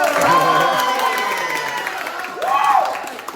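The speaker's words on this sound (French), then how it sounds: "Applaudissez s'il vous plaît." A crowd of spectators cheers and applauds before a fight between two women, loud shouts and whoops over clapping, with a fresh swell of cheering near the end.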